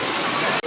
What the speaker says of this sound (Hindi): कितना मस्त झरना बह रहा है